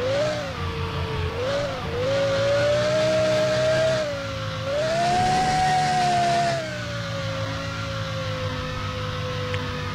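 A Ferrari's exhaust drones steadily while drifting through a desert in Car Driving Simulator 2020, the engine tone rising and falling gently as revs shift, loud and continuous with no talking.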